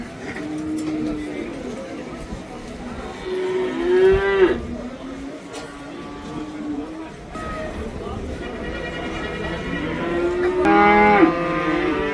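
Calves and cattle moo repeatedly at the Karabulak livestock market, long drawn lowing calls from several animals near and farther off, under steady crowd chatter and people talking.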